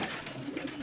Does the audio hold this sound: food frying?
no